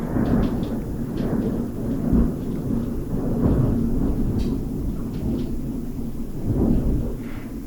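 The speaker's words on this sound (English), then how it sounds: "the thunder." Loud thunder rumbles continuously through a thunderstorm, with heavy rain noise underneath and several swelling low booms rolling over a steady roar.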